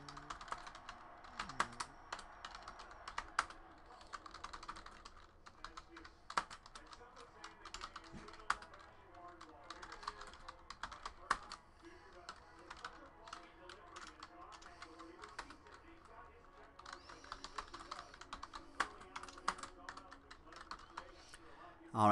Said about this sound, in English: let's type in all of these hits